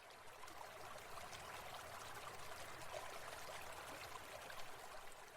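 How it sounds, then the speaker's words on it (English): Mountain stream flowing in a steady, gentle rush and trickle of water, soft and continuous with no voices. "the stream flowing over your feet, pure and refreshing"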